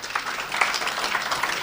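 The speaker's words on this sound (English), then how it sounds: "Give her a round of applause." A town hall crowd at a people's forum breaks into dense, steady applause, many hands clapping together close and fairly loud.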